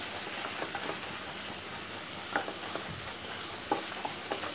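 A spoon stirs rajma (kidney bean) gravy in a pan after soy sauce goes in, giving a steady, soft sizzling hiss with occasional light scrapes and clicks, no talking.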